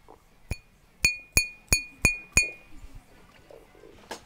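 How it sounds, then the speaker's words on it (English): A modern soda-glass drinking glass is pinged six times in a fairly even rhythm, each tap giving a bright, short clink that rings briefly before dying away, close and clear over quiet background with a few faint soft knocks afterward. "modern soda glass will sound like this"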